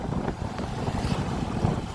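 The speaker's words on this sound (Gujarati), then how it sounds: "તો પવન એટલો છે" Strong wind blowing outdoors under gathering rain clouds near sunset, a continuous low rushing roar buffeting the microphone with gusty surges and no voices.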